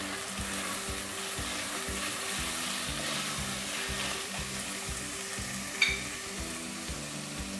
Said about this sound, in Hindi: हाफ़ टी स्पून ज़ीरा, तो वो इसमें शामिल करके थोड़ा सा भून लेते हैं।